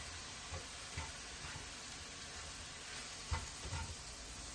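Ground beef with garlic and soy sauce sizzles steadily in a pan, a soft broadband hiss with a few light stirring clatters, faint and without talk.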